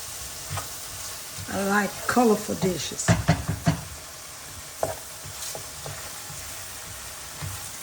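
Vegetables fry in a pot for Southern gumbo, a steady sizzle with scraping stirs and knocks of a utensil, under a woman's speech.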